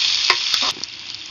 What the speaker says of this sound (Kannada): ಎಣ್ಣೆ ಹಾಕೊಂಡ್ಮೇಲೆ ಸಾಸಿವೆ ಹಾಕ್ಕೊಂಡೆ, ಈರುಳ್ಳಿ ಹಸಿಮೆಣಸಿನ್ಕಾಯಿ ಹಾಕ್ಕೊತಾ ಇದ್ದೀನಿ.